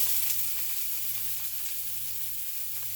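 Half a chopped onion fries in olive oil, a continuous close sizzle holding steady over a faint low hum.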